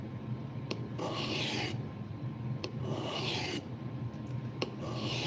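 A blade edge being sharpened on a 400 grit stone, rhythmic rasping strokes about once a second with short clicks between them, close and steady, no voices.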